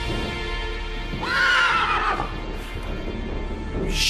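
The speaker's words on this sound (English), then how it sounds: "Hey, horses." Horses neigh loudly and close by, with one long whinny rising and falling, then a shorter call near the end, over a constant low rumble of background noise.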